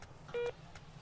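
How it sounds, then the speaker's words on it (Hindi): A phone dialing tone sounds as one short steady beep, faint, over quiet background noise. "मैं एक फोन लगाता हूँ"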